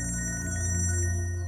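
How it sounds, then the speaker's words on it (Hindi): A mobile phone ringtone plays steadily and loudly with a repeating electronic melody in a tense crime-drama scene, with no voices over it. "भाई साहब आपका फोन बज रहा है"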